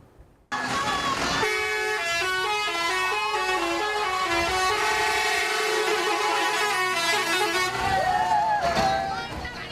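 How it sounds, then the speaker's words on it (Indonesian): A tourist bus from Java sounds its telolet horn for children in Denpasar, Bali, playing a long loud run of shifting melodic toots over nearby street noise and voices. "permintaan klakson telolet mereka direspon sopir bus pariwisata asal Pulau Jawa"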